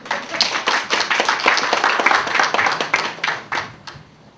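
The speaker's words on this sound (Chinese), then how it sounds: "我们是不是给馆长一个掌声？" Audience clapping for a museum director at a 2014 charity lamp-lighting event: a modest crowd of distinct, close hand claps, fairly uneven, thinning out and fading toward the end.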